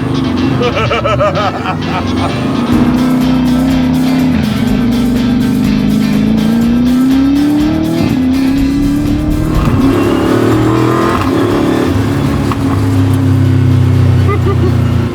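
850 hp carbon fiber monocoque Chevy C10 race truck with a sequential gearbox doing a burnout, loud engine revving and wavering under squealing tires, with some background voices.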